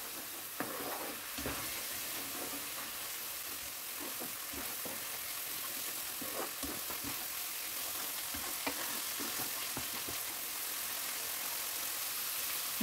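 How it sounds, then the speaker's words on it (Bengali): Turmeric, chili and coriander powder sautéing in oil for a boal fish curry, a soft steady sizzle with intermittent scraping stirs against the pan, fairly quiet and without speech. "আমি ধনে গুঁড়ো দিচ্ছি এখানে 1 চা চামচ, দিয়ে মশলাটাকে একটু ভালো মতো কষিয়ে নিব।"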